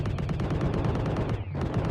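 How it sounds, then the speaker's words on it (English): Rapid machine-gun-like firing in the space mining video game Exovia, a dense continuous stream of shots with one brief break in the middle, loud and close. "Like a machine gun."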